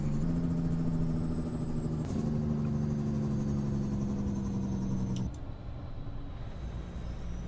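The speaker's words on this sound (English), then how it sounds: "that's full engine brake at the moment, and we need to slow down before we reach the bridge" Heavy truck engine in American Truck Simulator under full engine braking, a steady low droning rumble with a constant pitch that holds for about five seconds, then drops away to a quieter hum.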